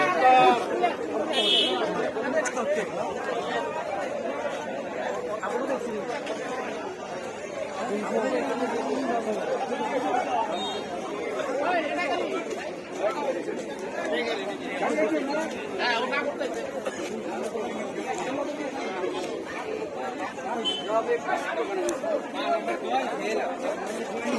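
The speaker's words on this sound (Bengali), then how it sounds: "পুরা ভিড় লেগে গেছে" A crowd gathers at the scene of a motorbike accident, with steady overlapping chatter from many voices close by that runs through the whole span.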